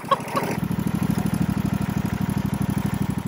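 Old, worn John Deere lawnmower engine chugging at a steady low idle, a regular rapid thumping pulse that stays close and even throughout, with nothing else over it.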